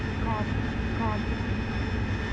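A steady, loud jet roar from an AV-8B Harrier engine at full throttle in the DCS World combat flight simulator, with a few faint chirps above it.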